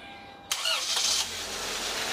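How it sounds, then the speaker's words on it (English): A car engine cranks and catches after a quiet moment, rising into a loud start burst, then settling into a steady idle. "and start the car"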